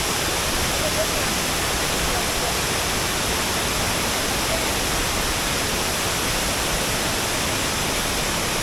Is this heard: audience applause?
no